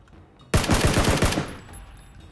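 Automatic gunfire in PUBG, a sudden burst of about eight rapid, loud shots fired up into the sky, followed by a short decaying tail and quiet game ambience.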